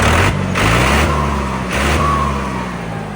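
A loud tractor engine drones steadily close by, its rumbling low tones rising and falling with a faint high whistle riding on top.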